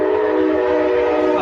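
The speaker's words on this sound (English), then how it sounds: "the train is passed" A train passes nearby, a loud steady rumbling drone with a sustained tonal whistle-like hum throughout, alone without talk.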